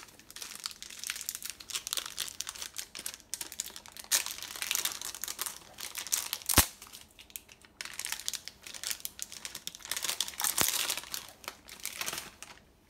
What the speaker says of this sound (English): Go ahead and take it out of its little packaging as well.